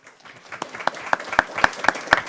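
Applause at a school board meeting for high school award winners, a small group clapping and building from a soft start into a steady, fairly close rhythm of individual claps.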